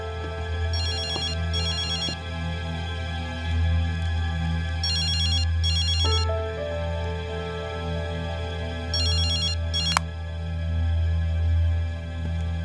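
A telephone rings in repeated paired electronic bursts, loud and clear over a steady humming background, with no talking.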